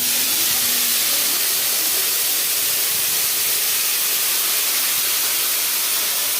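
Tamarind water poured into a hot pan of oil with spluttering mustard seeds, cooking catla fish scales, gives a loud, steady, close hiss of sizzling steam that holds throughout with no talking.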